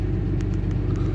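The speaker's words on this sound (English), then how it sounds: "Uh-oh, a car." A car rumbles close by in a town in Sierra Leone, a steady low engine drone filling the short moment with faint ticking above it.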